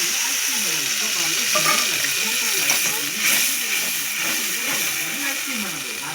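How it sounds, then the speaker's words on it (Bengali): Onions frying in a pan and being stirred, with a continuous loud sizzling hiss and regular scraping strokes of the spoon throughout, close and steady. "পেঁয়াজ ভাজা হয়ে গেছে"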